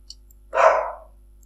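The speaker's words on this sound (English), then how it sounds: "sorry for that, that's my dog." A single sharp dog bark, close and fairly loud, standing alone against a quiet background.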